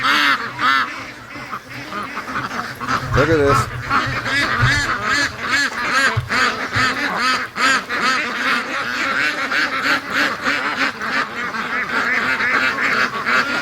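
A flock of free-range ducks quacking and honking nearby, calls overlapping almost continuously, with a brief spoken remark.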